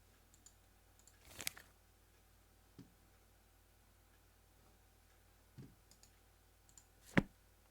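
Sparse, faint mouse clicks sound while navigating menus in the Vagrus role-playing game, with single sharp clicks spaced seconds apart over a quiet background.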